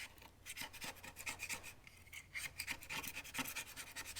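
Flat straight window scraper rasping residue off a hot tub table surface, a steady series of close, gritty scraping strokes repeating quickly with no talk.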